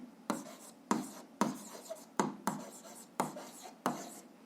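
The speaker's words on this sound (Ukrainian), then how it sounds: "записуємо відповідь, пишемо відповідь" Pen writing an answer on paper during a seventh-grade physics lesson, with a series of short, fairly soft scratching strokes in an even rhythm and no talk.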